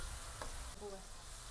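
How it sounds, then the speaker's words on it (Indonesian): A blended spice paste of garlic, shallots and other aromatics, for cooking fish, sizzles faintly while being stir-fried in a pan, a soft steady hiss with a light stir scrape and no voices. "Sekarang kita mau tumis ikannya."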